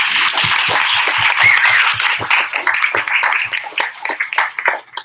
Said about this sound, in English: let's have a huge round of applause for panelists.